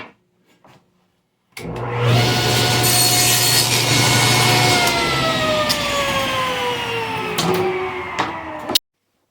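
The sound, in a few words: table saw cutting wood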